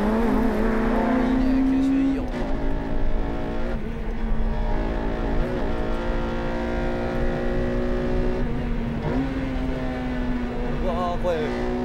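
A tuned car laps a race track through low-speed corners, its engine droning steadily near and loud with pitch rising and dipping through gear changes, while someone talks over it throughout.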